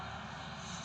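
A tractor drives along a road beside wheat fields, its engine a loud, steady, throbbing drone that holds without a break throughout.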